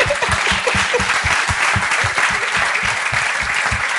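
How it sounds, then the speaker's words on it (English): Audience applause in a talk and Q&A setting, a steady wash of many hands clapping at close range, continuous and fairly loud throughout with no voices over it. "I was not too sure if you guys will clap for me"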